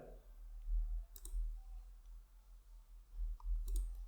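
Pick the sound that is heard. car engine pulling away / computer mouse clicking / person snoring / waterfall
computer mouse clicking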